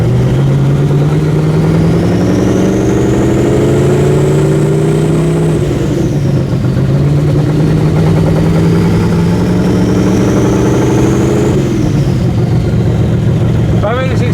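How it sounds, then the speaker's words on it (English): A twin-turbo S10 pickup with a manual gearbox pulls down a driveway, its engine droning loud and close and rising in pitch twice as it revs through a gear, then dropping, with a turbo whine above it. "We're going down the driveway with twin turbos."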